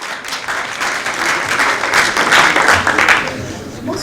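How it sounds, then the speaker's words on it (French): An audience applauds a hackathon team with steady, dense clapping that holds for about four seconds, moderately loud throughout with slight swells. "Qu'on peut applaudir."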